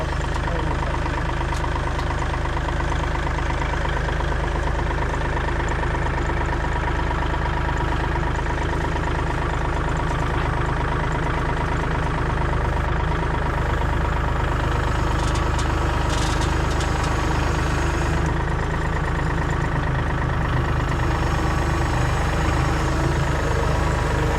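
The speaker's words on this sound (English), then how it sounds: "I'm going to use the tractor as much as I can" A Kubota L2502 tractor engine runs steadily at a low rumbling idle, loud and close throughout with no breaks.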